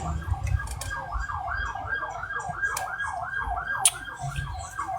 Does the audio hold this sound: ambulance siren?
yes